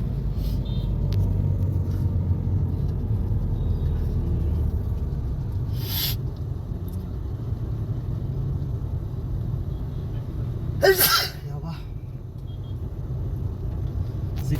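Cars sit in a road traffic jam near Chengalpattu, heard from inside a vehicle as a steady low engine rumble and road hum, with a couple of brief bright hiss bursts.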